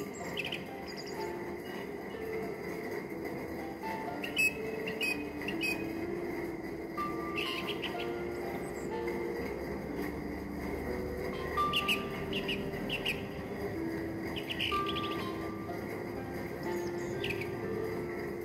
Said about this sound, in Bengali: পাখির ডাক, ফুলের সিনারি